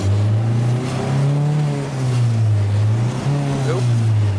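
A stainless steel Willys Army Jeep replica driving with a loud, steady engine drone that dips and surges as gears are missed.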